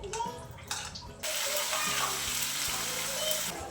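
A bay leaf and spices dropped into hot oil in a home kitchen pan. Soft background noise suddenly turns into a loud, steady hiss of sizzling that carries on to the end.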